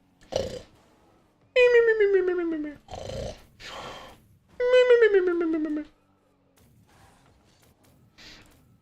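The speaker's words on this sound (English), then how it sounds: "look, sleeping puppy. He's hitting us with the honkshoe me me me." A sleeping puppy snores close by, giving a few breathy snorts and two longer squeaky, whistling exhales that fall in pitch, separated by quiet gaps.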